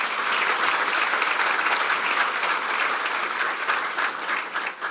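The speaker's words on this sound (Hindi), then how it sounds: "बजा दें यीशु के जलाल के लिए जोरदार तालियां।" A church congregation at an Apostolic service in Dubai claps loudly and steadily throughout, a dense continuous wash of applause from a large crowd with no talking over it.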